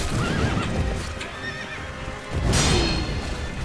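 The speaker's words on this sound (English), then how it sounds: "Horse keeps trying to step on you." A war horse in the Sekiro video game neighs and whinnies loudly, with its hooves clopping and stamping close by, and a second strong whinny rises partway through.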